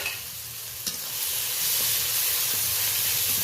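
Steady frying sizzle and hiss as ginger paste goes into a pan of softened onions and tomatoes for a spicy tengra fish curry, with a stirring scrape partway through and the sizzle swelling louder toward the end.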